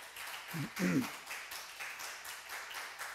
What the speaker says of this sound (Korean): 박수 한번 쳐봐요.